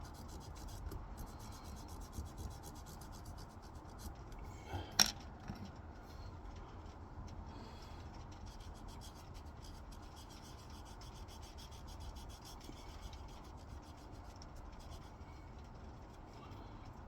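A dauber rubs edge coating along the edge of a leather belt, giving a faint, continuous soft scraping and rubbing with one brief sharper tap partway through, quiet and close with no talking.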